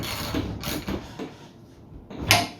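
A ratchet with a 27mm socket tightens a fitting on a new pump in an AVA P70/P80 pressure washer, giving several short mechanical clicking strokes up close, with a sharper final click near the end.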